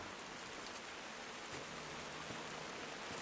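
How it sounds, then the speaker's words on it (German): A rain storm in the video game Generation Zero gives a steady, dense hiss of falling rain with scattered drop patter, even and unbroken throughout, with no voices. "jetzt haben wir noch Unwetter."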